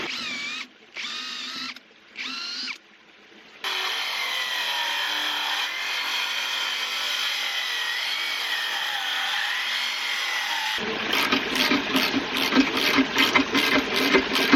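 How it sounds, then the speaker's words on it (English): A power drill bores a pilot hole for a micro hydro Coanda screen intake, starting with a few short bursts, then a long steady whine and a rougher, pulsing grind as the bit bites, loud and close with no talk. "Put a pilot hole in with my drill."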